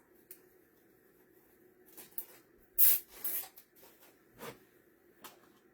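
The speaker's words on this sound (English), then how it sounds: "We're going to take our zip tie, pass it through." A plastic zip tie is pulled through and ratcheted tight on a poinsettia centerpiece, giving a couple of short zipping rasps amid quiet handling rustles.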